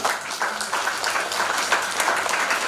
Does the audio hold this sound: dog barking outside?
no